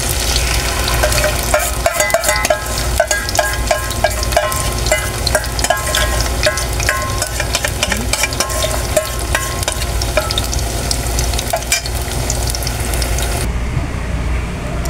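Kalingking sweet potato fritters frying in hot oil, a steady dense sizzle with crackles and scraping stirring clicks, close and continuous, dropping away near the end.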